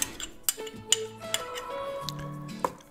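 A spoon clinks and taps against a bowl while stirring applesauce into a creamy sauce for matjes herring, with sharp irregular knocks over a few seconds and soft squishy mixing between, no talking.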